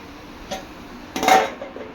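A metal lid is set back on a cooking pan of beetroot poriyal, making a soft tap and then a louder close clatter of metal on metal, with no talk.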